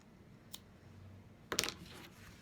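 Scissors snip through craft string in a quiet setting: one small click, then a short cluster of crisp cutting snaps a moment later.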